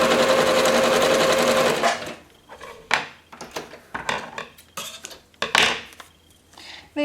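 A sewing machine stitches across the top of fabric scraps in a loud two-second burst, then stops, followed by clattering handling noises of fabric, tools and pieces being moved about close by.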